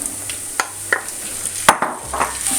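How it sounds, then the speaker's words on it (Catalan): Tomato sizzles with red onion in a casserole, with scattered clinks and scrapes of a utensil stirring against the pot. "I ho deixarem fregir tot uns 10 minutets aquí a la cassola."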